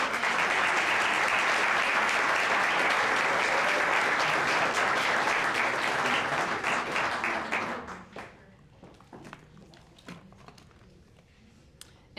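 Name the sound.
applause after a gala speech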